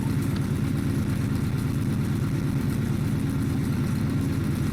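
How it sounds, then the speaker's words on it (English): AC4400 locomotive in a train simulator game, a heavy freight train's brakes slowly releasing: a steady low rumbling drone with a continuous hiss, unchanging and fairly loud throughout with no voices. "I've seen the brakes release way faster than this."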